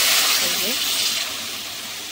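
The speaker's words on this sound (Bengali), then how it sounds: "তো চলো এবারে কিন্তু জল দিয়ে দেবো" Water poured into a pan of fish curry with potatoes gives a loud gushing hiss that fades into a softer steady simmer, with a voice faintly audible underneath.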